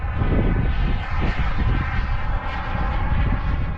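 A Global Jet Club Hummingbird RC jet with an ACEx-80 turbine makes a slow pass at about quarter throttle in strong wind, its steady turbine whine and roar holding loud and continuous with gusty microphone rumble.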